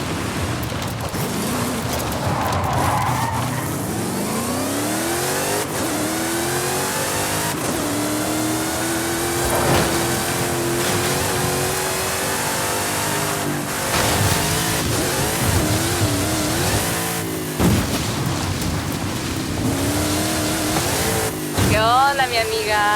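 A 2008 Dodge Viper SRT10 ACR in the Forza Horizon racing game revs its engine hard, and the pitch sweeps up and down through repeated gear changes. A voice is heard at times over the continuous roar.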